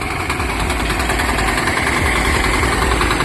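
A 5hp Indian Agro power tiller mini tractor running as it turns in place, with its small engine chugging loudly and steadily up close throughout.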